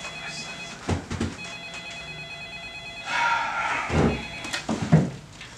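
A telephone rings indoors in short electronic bursts over a low room hum, with louder bumps and handling noises toward the end.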